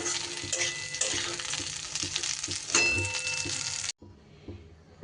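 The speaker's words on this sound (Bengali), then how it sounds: "এবার কিশমিশটা দিয়েও একটু নাড়াচাড়া করে নেব" Raisins and spices stirred in a metal kadai, a spatula scraping and clinking against the pan in an irregular rhythm over a soft dry sizzle, close by, ending abruptly with a quieter tail.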